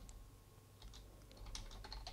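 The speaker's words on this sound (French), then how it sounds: "On va écrire avec un clavier français." Light typing on a French computer keyboard, with scattered soft key clicks that build toward the end over a quiet room hum.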